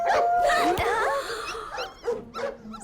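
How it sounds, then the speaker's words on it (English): Several dogs bark and yip in quick bursts, fairly close, with whimpering tones mixed in and a voice speaking alongside. "Sounds like dogs?"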